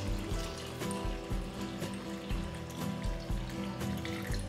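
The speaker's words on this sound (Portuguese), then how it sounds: "vou cobrir as batatas com água" Tap water runs into a cooking pot holding sweet potatoes, a steady splashing stream with a rising, gurgling pulse as the pot fills, close and alone.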